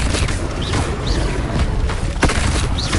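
An Expelliarmus spell is cast in Hogwarts Legacy as a loud, booming magical blast. Dense crackling noise carries a few sharp hits and whooshing accents across the few seconds.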